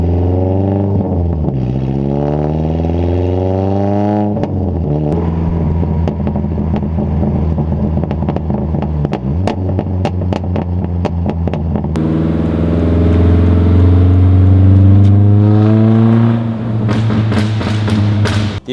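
A Mazda Miata NC with an aftermarket single-exit exhaust revs repeatedly, its engine note sweeping up and falling back in a series of close, loud blips, with a harder, stronger pull toward the end and no talking.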